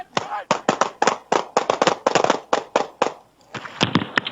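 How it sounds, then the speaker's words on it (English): Rapid volley of police gunshots fired at a suspect during an arrest, a dozen or more sharp cracks in quick irregular bursts, loud and close, with shouting voices mixed in near the end. "Shots fired. Suspect down."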